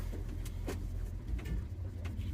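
The engine of a 1976 Ford F-150 Ranger runs at a steady idle close by, with a low, even rumble and a few faint clicks throughout.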